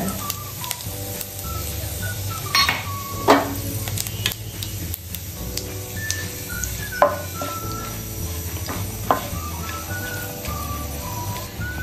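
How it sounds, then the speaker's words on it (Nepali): Cumin seeds and chilies crackle in hot oil in a wok, a steady low sizzle that runs throughout. Occasional sharp metallic clinks and taps of the utensil punctuate it. "यसमा म यो जिरा र खुर्सानीलाई फुराउँछु है त।"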